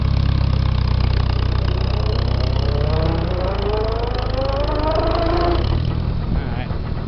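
An International 140 tractor runs in fourth gear, a close, loud chugging engine holding steady, its pitch rising as it pulls away, under a voice.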